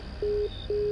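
A telephone call fails to connect, giving two short, even tones of a busy signal in quick succession over a low background hum.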